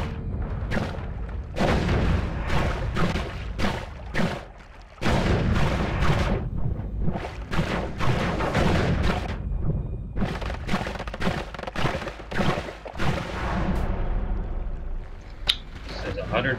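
Explosions in the video game Noita come as a dense, loud barrage of booms, thuds and crackling blasts, repeating almost without pause over the whole stretch.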